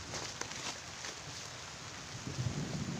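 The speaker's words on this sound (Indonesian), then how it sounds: "Cuaca di sini hujan." Steady rain falling in a forest, a dense, even hiss that fills the whole clip at a constant moderate level, with no voices.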